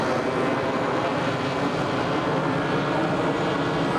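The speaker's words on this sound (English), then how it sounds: "he's going to be taxiing this out" A Grumman-style F4F-3 Wildcat airplane taxiing out for its maiden flight at an airfield, its engine droning steadily and loudly throughout with a rough, continuous propeller roar and no talk.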